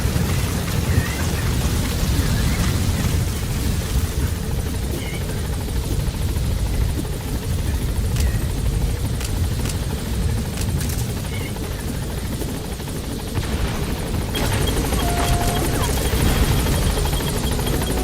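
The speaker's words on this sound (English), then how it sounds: "Support helicopter has arrived." Support helicopter from the video game Metal Gear Solid V, a loud continuous rotor roar that stays close throughout, mixed with storm-like rain noise and some faint speech underneath.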